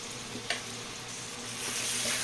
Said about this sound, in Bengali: দিয়ে আবার একটু ভেজে নেব।